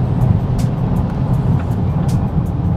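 Audi RS3 with a seven-speed DSG gearbox accelerating hard toward 7,000 rpm and shifting up, a loud steady engine roar with brief breaks where the gear changes land, heard from inside the car.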